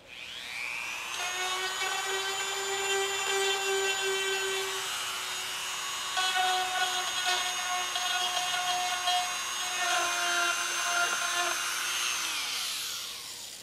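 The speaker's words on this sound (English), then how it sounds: "We use the Dremel again to actually sand these down" A Dremel rotary tool sanding down a plastic weld whines at a high, steady pitch, close and loud. The tone dips and shifts slightly as it presses into the surface, then winds down at the end.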